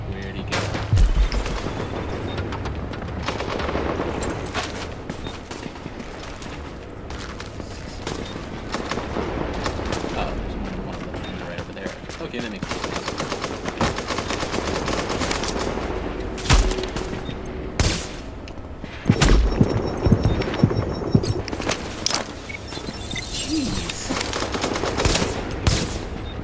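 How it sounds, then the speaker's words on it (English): Gunfire in The Division video game: dense bursts of automatic and rifle shots, loud and near, rattling almost nonstop with heavier booms, while voices talk over the shooting. "Shooting us again with it, I guess"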